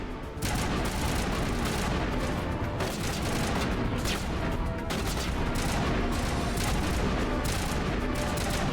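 Continuous loud gunfire and explosions from the Mass Effect video game, dense overlapping shots and booms with no letup throughout.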